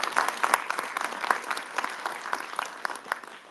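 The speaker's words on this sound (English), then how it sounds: "Let's give him a round of applause." An audience at a pop culture expo panel gives a round of applause, a dense, steady patter of many hands clapping that continues at an even level throughout.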